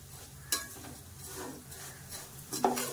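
Semiya frying in a pan: a soft, continuous sizzle under stirring, with a sharp utensil knock early on and a few metallic scrapes and clinks near the end.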